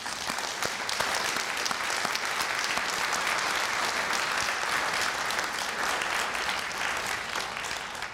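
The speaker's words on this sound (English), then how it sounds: "Graduates, please join me in a round of applause for your parents." An audience at a 2017 graduation ceremony applauds steadily, a broad, even wash of many hands clapping that holds throughout without a break.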